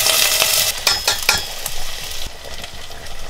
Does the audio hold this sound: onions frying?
yes